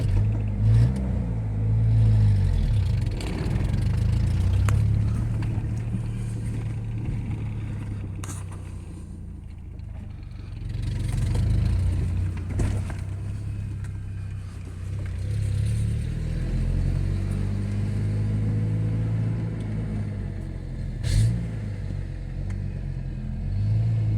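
A 1992 Ford Ranger flatbed special with a five-speed manual transmission drives along, its engine giving a steady, close low rumble that swells and eases a few times over the stretch, with no talking.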